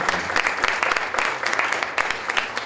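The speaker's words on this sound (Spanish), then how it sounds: "Démosle un aplauso a Pablo por este santo" A large gathering at a Catholic youth catechesis event applauds to mark Saint Paul's feast day, loud brisk clapping with rhythmic surges throughout.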